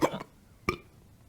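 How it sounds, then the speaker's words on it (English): Hiccups from someone who has just eaten Pepper X hot sauce, the spiciest hot sauce: two short, close, sharp gulping catches about half a second apart, standing alone in an otherwise quiet room. "Here comes the hiccups."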